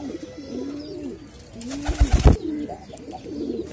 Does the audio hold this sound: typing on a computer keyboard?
no